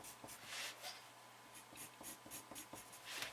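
A pen draws diagonal lines on paper for a UPVC downpipe drawing, making quiet, close scratching strokes in a quick, regular rhythm.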